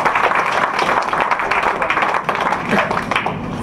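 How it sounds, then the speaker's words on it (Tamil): An audience at a Tamil poetry recital applauds together, a thick, sustained roll of many hands clapping at an even loudness, with a slight dip partway before continuing. "தட்டுங்களேன் கையை."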